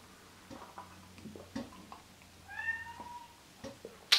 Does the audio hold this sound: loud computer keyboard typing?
no